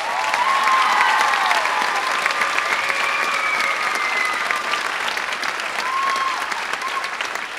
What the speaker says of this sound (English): Let's give a huge round of applause for that.